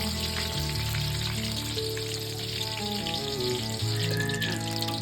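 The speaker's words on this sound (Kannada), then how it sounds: "ಮತ್ತೆ ಇದನ್ನ ಇನ್ನೊಂದು ಸಲ ಫ್ರೈ ಮಾಡಬೇಕು" Mirchi bajji, battered chilli fritters, frying in hot oil, a continuous dense sizzle and bubbling crackle, close and steady throughout with no talk.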